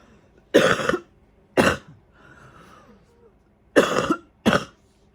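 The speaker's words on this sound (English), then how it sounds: "you gotta cough out your gunk out of your lungs" Four harsh coughs, two early and two late, with a quieter raspy throat sound between them; loud and close.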